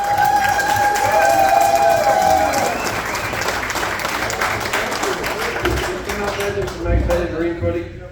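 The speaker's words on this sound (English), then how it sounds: "Thanks for your applause." A comedy club crowd claps and cheers loudly for a comedian taking the stage at a Marine Corps League show. A sustained tone rings out at first, then the clapping continues under a voice.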